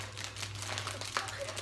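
A snack package crinkles and rustles up close in quick irregular bursts as someone struggles to open it, with faint talk in the background.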